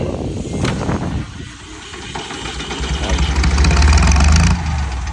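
A three-cylinder Iseki TS2810F 4WD tractor diesel cranks over and settles into a loud, rough idle that swells near the end, with someone talking over it.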